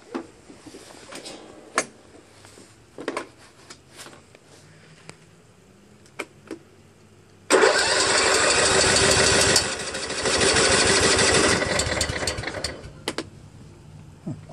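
A John Deere LA105 lawn tractor, with fuel shut off and gas in the crankcase, is cranked by its starter: scattered clicks and thumps, then a loud sustained churning crank for several seconds, easing partway and stopping without catching.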